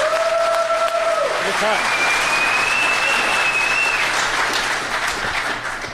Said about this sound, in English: Why don't we give these guys a big round of applause?